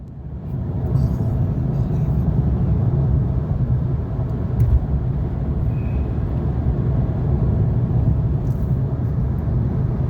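A car drives along a road toward a canyon in the Navajo Nation, heard as a steady low rumble of engine and tyre noise from inside, continuous and fairly loud with no talking.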